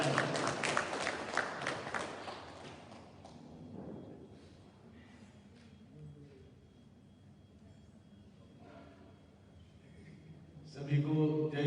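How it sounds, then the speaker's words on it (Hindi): Loud audience applause at an event in the Ram Krishna Temple in Sydney, Australia, bursting out at the start and fading after a few seconds into quieter hall noise, with a brief swell of sound returning at the end. "एक जोरदार तालियों के साथ"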